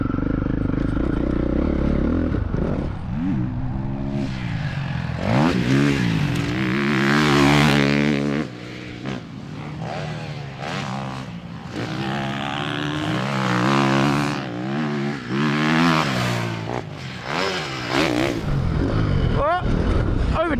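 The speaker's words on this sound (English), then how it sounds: "I would be taking the Ducati Desmo450 for its first ever ride" A Ducati Desmo450 dirt bike engine on its first ride snarls and revs hard, climbing and dropping in pitch through repeated throttle bursts, loud and close for about twenty seconds.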